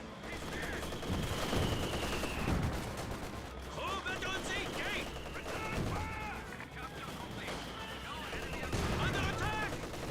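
Gunfire in the Company of Heroes 2 video game, with repeated machine-gun bursts and rifle shots crackling through a dense battle din, joined by occasional heavier thuds. A commentator talks over the fighting throughout.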